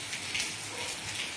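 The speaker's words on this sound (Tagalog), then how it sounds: "Yan, ulan diri sa amoa." Morning rain falling steadily, a soft continuous hiss of drops on surfaces, fairly faint and even throughout with no voices.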